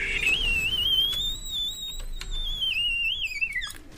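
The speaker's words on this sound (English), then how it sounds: "Go get your tea off the stove, low bro. It's fucking whistling." A kettle on the stove whistles steadily with a shrill, wavering pitch that rises then falls as it tapers off, moderately loud over faint background noise.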